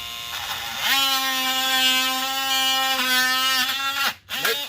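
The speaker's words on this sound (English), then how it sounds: "With me, I got oscillating tool that I'm gonna do" An oscillating tool cuts a part out of a 2010-2015 Chevy Camaro near the rear 6x9 speaker, a loud, steady buzzing whine that holds for several seconds, then cuts off abruptly and briefly restarts.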